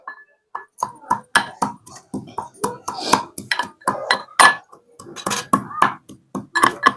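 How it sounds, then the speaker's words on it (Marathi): A knife taps and chops rapidly through a tomato against a board, sharp irregular cuts close by with a few faint clinks. "आता इथं कापून टोमॅटो अर्धाच घेते."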